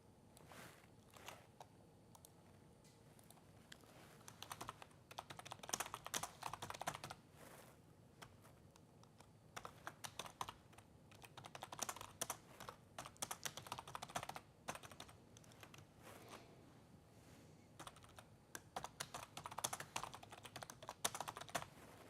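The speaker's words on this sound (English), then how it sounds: "I'm just typing this up." Quiet typing on a computer keyboard, with irregular clusters of soft key clicks and short pauses, faint and close, continuing for about twenty seconds without talk.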